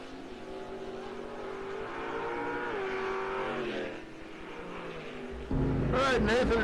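S10 pickup truck and 1968 Barracuda with a 340 engine at a drag strip, engines rising and revving under an announcer's voice, then a sudden louder burst of acceleration near the end.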